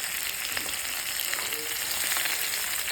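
Cumin seeds, ajwain and turmeric roast in a pan over low heat for homemade mixed pickle, giving a steady, close, even sizzle with a few faint stirring scrapes and no talk.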